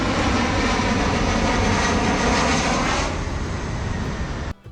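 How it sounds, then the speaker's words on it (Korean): A large airplane roars loudly and steadily at an aviation museum in San Diego, California, a broad continuous engine rumble that eases slightly near the end before cutting off abruptly. "항공 박물관이라고 비행기가 굉음을 내며 환영해주고 있다"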